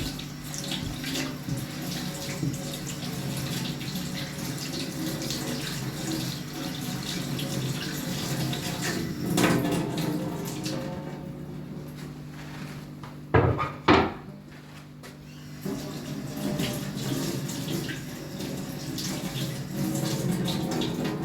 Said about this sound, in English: I'll take my equipment and rinse them before I use